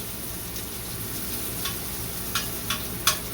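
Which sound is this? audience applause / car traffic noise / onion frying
onion frying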